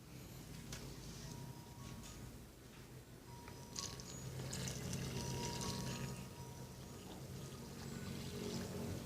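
Water being poured into kutsinta batter, a Filipino steamed rice cake, making a steady splashing, trickling pour that runs close and continuous throughout, swelling slightly midway.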